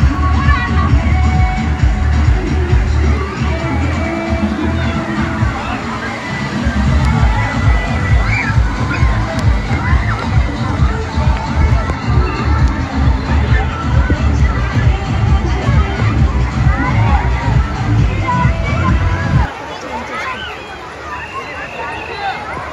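Water slides splash at a Jalvihar water park amid a loud crowd of shouting children and chattering visitors, the busy roar of splashing and voices sustained before dropping off sharply near the end.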